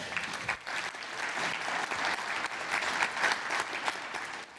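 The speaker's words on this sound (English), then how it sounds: "give them all a round of applause" A conference audience gives a round of applause for the AV team at a dental practice management talk, dense steady clapping from a room of people lasting several seconds.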